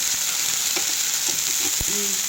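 Ingredients fry in a home cooking pan with a steady broadband sizzle, joined by a few short stirring scrapes and clinks partway through; no one speaks.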